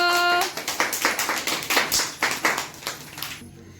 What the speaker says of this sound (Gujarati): ચાલો બાળકો તાળી પાડી દો